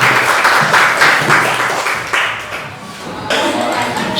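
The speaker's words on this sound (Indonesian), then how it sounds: "Silakan tepuk tangan" Applause at an inauguration ceremony for a school alumni association chairman in Bandung, with a crowd clapping in uneven waves that swell and fade, briefly thinning before rising again near the end.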